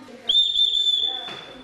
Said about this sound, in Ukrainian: копия со свистюльки 12 века, которая была в Средней Азии